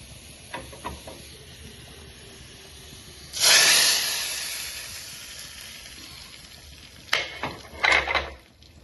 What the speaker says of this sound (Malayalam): പിന്നെ നമുക്കതെടുത്ത് ചക്കക്കുരു മാങ്ങയ്ക്കകത്തിട്ട് ഒഴിച്ചു കൊടുക്കാം.